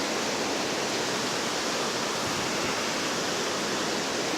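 Water pours steadily over the old Leominster Lake dam, making a constant, dense, hissing rush with no pauses, loud and close.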